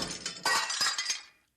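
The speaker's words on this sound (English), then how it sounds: "That is a maniac crashing through the gate at Jennifer Aniston's house out in California yesterday." A car smashing through a residential gate at a California house, heard as one short loud crash with shattering glass-like breakage and rattling debris that fades out over a second and a half.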